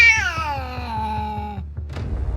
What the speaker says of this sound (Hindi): बिल्ली की आवाज से भी डरता है